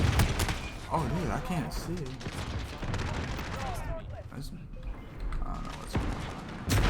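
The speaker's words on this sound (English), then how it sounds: "I'm spawning into grenades and dying." Dense Call of Duty gunfire with grenade explosions on a small map, loud continuous bursts and blasts throughout, with someone talking excitedly over the battle noise.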